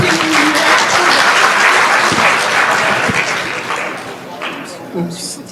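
An audience at a mechanical engineering graduation ceremony applauds loudly, dense clapping that holds strong and then gradually thins and fades toward the end, with faint voices beneath.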